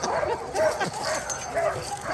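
Alaskan sled dogs whimper and yip in short, excited bursts, several voices overlapping close by.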